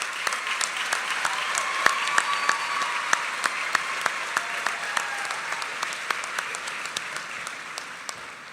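Applause from the audience at a 2023 high school commencement ceremony, a steady wash of many hands clapping with sharp individual claps standing out, moderately loud and fading slightly toward the end.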